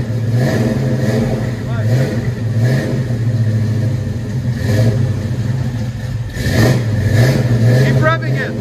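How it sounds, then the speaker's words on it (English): A car engine fitted with a Flowmaster exhaust muffler revs repeatedly with a deep, throaty exhaust rumble, rising and falling in bursts, loud and close, with voices talking over it. "That sounds so good. Classic Flowmaster sound."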